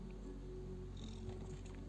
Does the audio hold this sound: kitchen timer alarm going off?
no